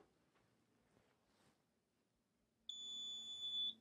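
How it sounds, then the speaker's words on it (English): A steady high electronic beep from a Drufomat thermoforming machine, signalling cooling is done, starts partway through after near silence, holding loud and continuous for about a second before stopping. "There's my beep. So now I know it's cooled sufficiently."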